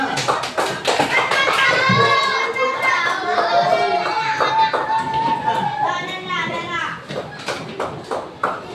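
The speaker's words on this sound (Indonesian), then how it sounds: "Tepuk tangan untuk kelompok 5." Children in a classroom clap for a group of classmates, fast, brisk hand claps near and fairly loud, mixed with lively children's voices chattering and calling over them.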